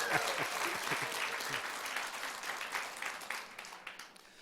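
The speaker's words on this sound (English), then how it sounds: "let's give a big round of applause and a cheer for products" Audience applause at a product presentation event in Chicago, a dense roar of many hands clapping up close, gradually thinning and fading toward the end.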